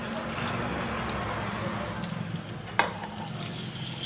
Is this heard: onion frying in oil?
yes